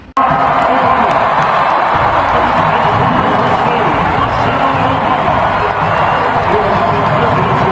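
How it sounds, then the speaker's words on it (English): A packed arena crowd at an NBA All-Star game cheers loudly and steadily, a dense roar of voices and whoops that holds throughout. "the camera panned to them, and the crowd cheered"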